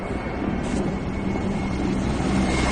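Russian military aircraft flying low over houses near Hostomel, a loud, continuous engine roar that builds slightly and fills the whole stretch, with no talk over it.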